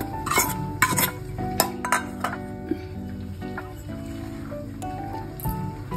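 Vrat chilla batter ingredients being mixed in a bowl, with close clinks and scrapes of a spoon against the dish and soft stirring, rhythmic and intermittent, with no speech.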